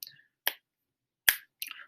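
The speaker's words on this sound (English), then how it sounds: "let's try clapping this one" Four sharp hand claps in an uneven rhythm, crisp and close, separated by short silences, with no talking.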